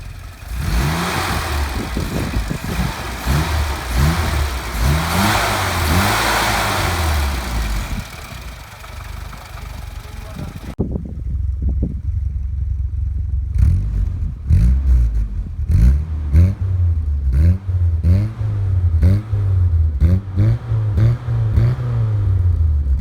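A 1975 Mini Cooper engine with an 8-valve SU carburetor idles with a steady low rumble, then after a brief lull it is revved repeatedly in sharp bursts, close and loud.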